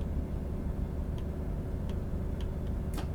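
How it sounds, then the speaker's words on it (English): Sparse, sharp clicks of a PZB train safety system sound every half second or so over a constant low rumble of a moving DB BR 642 Desiro train in Train Sim World 5, ending with a brighter click. "It's got like a cool clicky sound, the PZB on this train"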